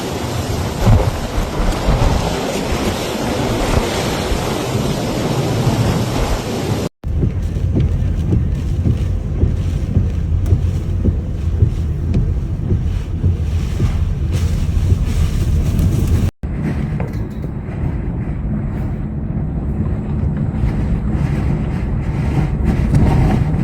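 Storm Goretti batters the French coast with roaring wind and crashing waves, a loud continuous rumble with heavy buffeting across three abruptly joined segments.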